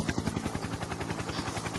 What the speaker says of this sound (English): And a helicopter coming.